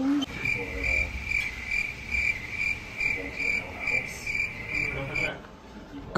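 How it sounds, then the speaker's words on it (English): Crickets chirp in a fast, steady pulsing trill, close and constant against a faint background, cutting off abruptly near the end. "Crickets."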